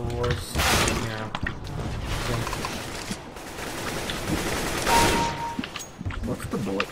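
Rapid gunfire bursts from a first-person shooter video game, with sharp repeated shots across the clip under a steady background bed, and a voice talking intermittently.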